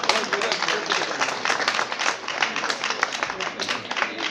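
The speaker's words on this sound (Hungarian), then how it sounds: "Egy nagy tapsot a Tanya Libáknak" Festival audience at the Galiba Napok in Újkígyós applauding a team called for on stage, a steady dense clapping that fills the whole stretch with a faint voice or two mixed in.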